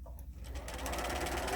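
A sewing machine stitching a fabric tote bag, a brief run of rapid, even needle clatter that starts up after a soft pause and keeps going at close range.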